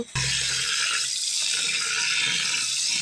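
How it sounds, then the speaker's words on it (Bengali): Water runs and splashes as soaked rice is rinsed in a pot or bowl for biryani, a continuous close gushing and sloshing that starts after a brief moment of quiet and carries on without any talk. "এবার চালটা ধুয়ে দিতে আসি।"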